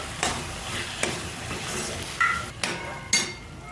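Boiled peas being stirred into masala Maggi noodles in a pan, with a soft continuous sizzle under a few scraping, clinking strokes of a spoon against the metal, close and moderately quiet.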